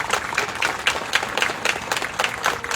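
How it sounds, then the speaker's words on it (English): An audience applauds marching band students at a band show reveal, steady dense clapping throughout at moderate loudness, with no talk over it. "Let's give them a round of applause for the start."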